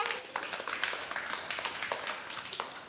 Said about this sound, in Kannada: ವೆರಿ ಗುಡ್ ಚಪ್ಪಾಳೆ ಹಾಕ್ರಿ ಅವರಿಗೆ